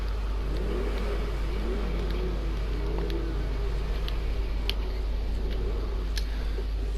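A car engine revving in the video game GTA V, a sustained mid-pitched engine drone with wavering rises and falls in pitch over a deep low rumble, plus occasional sharp clicks, with no talk.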